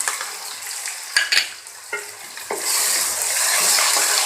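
Green chillies drop into a hot pan with garlic-ginger paste and sizzle loudly, with a few stirring clinks early on and a steady, close frying hiss building through the second half.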